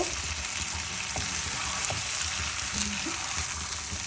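Rice and lentils being stirred into half-cooked vegetables in a pot for khichuri, a steady close frying sizzle with faint scrapes and soft knocks of the spoon.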